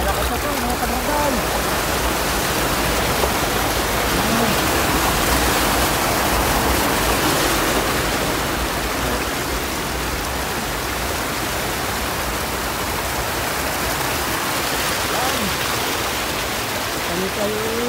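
Strong rushing flow of mountain water pouring through an irrigation channel, a loud, steady broadband roar that stays constant throughout with no pauses.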